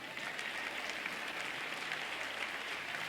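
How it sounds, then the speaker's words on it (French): Steady applause from a church congregation at a sermon on false and true prophets, dense and even throughout, heard at a moderate distance with no voices on top. "applaudissements pour ça"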